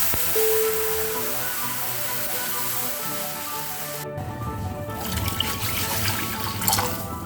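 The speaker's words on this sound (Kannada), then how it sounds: "ನಾನಿಲ್ಲಿ 2 ಕಪ್ ನೀರು ಹಾಕ್ತಾ ಇದ್ದೀನಿ" Two cups of water are poured into a hot pan of roasted vermicelli for sweet semiya kesari, giving a close trickling pour followed by bubbling, hissing liquid in the pan.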